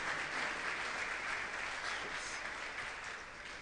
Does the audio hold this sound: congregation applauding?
yes